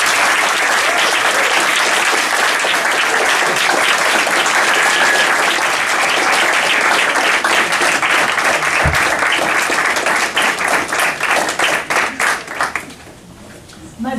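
Audience applause welcomes Jamaican poet Lorna Goodison to a poetry reading: loud, sustained clapping from a full room that holds steady, then thins into scattered claps and dies away near the end.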